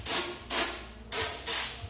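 Spray painting in an auto shop while fitting over fenders on a 240sx, four short, close bursts of spray-gun hiss in a quick rhythm, each fading before the next.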